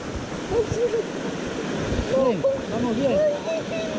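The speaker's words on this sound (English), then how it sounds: "So now we're going through the rapids over here." River rapids on the Palomino River in Colombia rush and churn during a tubing trip, a steady broad roar of water with voices talking over it.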